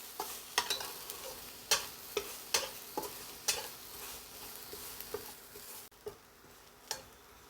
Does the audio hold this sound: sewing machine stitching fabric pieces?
no